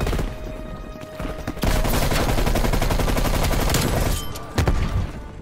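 Video game gunfire: sustained rapid automatic bursts rattle close and loud almost throughout, with a heavier burst near the end and no talk over it.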